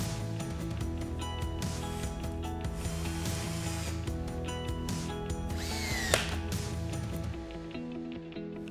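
Ratchet wrench tightening the bands on a Husky CR 7000 2-inch corrosion-resistant pipe coupling, a steady close run of rapid pawl clicks lasting several seconds, with one brief sharper accent near the end and no talk.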